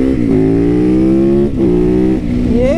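A supermoto motorcycle rides along a quiet no-outlet residential street, its engine loud and close, droning steadily with short dips and rises as the throttle eases off and opens again.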